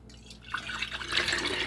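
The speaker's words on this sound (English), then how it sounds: "So I'm gonna pour this back into our jar." Homemade cough syrup poured from a container back into a jar in a home kitchen, a soft liquid trickle and splash that grows steadier after a quiet start, close and moderately loud with no talking.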